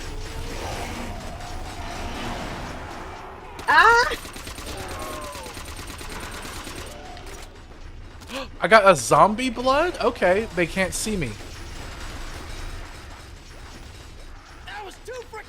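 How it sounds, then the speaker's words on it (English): Panzer Soldat robots from Black Ops 2 Origins zombies mode, a mechanical grinding hum with whirring, shrieking bursts, heard under a player's frequent excited talk. "So it's Panzer Soldats from Origins, from Black Ops 2."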